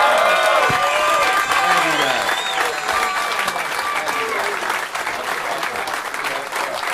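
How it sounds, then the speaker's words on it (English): A live comedy show crowd breaks into loud, sustained applause with scattered cheers and whoops, the clapping staying full and steady while a voice talks briefly over it. "Give him a nice round of applause"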